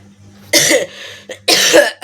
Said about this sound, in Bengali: গলার অবস্থা খুব খারাপ, কাশি কিছুতেই যাচ্ছে না।